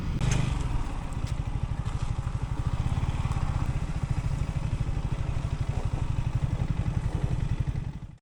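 A motorcycle engine putters steadily with a fast, even pulsing throb, close and constant for the whole stretch, with wind noise at the start.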